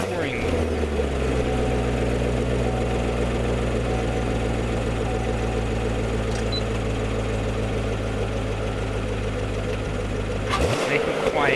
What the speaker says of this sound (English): I'm going to start the car through touring mode.